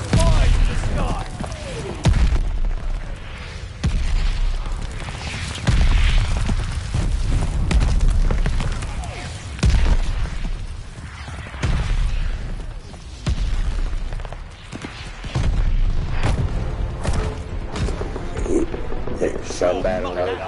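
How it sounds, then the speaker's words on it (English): Artillery shells bursting in a Call of Duty Vanguard battle, repeated heavy booms and rumbling blasts layered throughout under continuous game chatter and a player's voice. "Enemy shells coming in hot."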